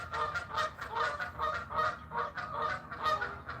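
A flock of geese honks continuously, a busy overlapping chorus of nasal calls at moderate distance.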